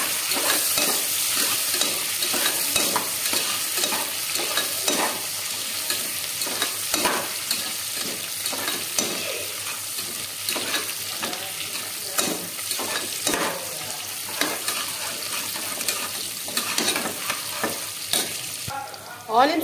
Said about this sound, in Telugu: ఇప్పుడు నెక్స్ట్ దీనిలో ఆనియన్స్, పచ్చిమిర్చి, జీలకర్ర వేసి గోల్డెన్ కలర్ వచ్చే వరకు బాగా ఫ్రై చేసుకోవాలి.